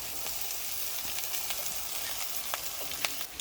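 Meat sizzles in a pan with crushed garlic, cumin paste, ginger paste and salt for Bangladeshi spicy meat pitha, a steady dense frying hiss with small pops throughout.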